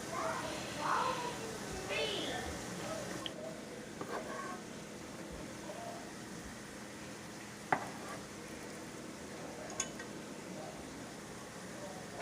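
Hamburger meat fries in vegetable oil in a pan, a soft steady sizzle running underneath with occasional faint clinks of a utensil, quiet and close, while someone talks over it.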